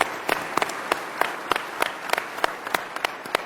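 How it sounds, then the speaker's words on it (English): A small audience at an investment summit gives a round of applause for civil servants, sparse, distinct claps in an uneven rhythm, a few hands rather than a roaring crowd, moderately close. "if I could just get a round of applause for the civil servants who work so hard every day"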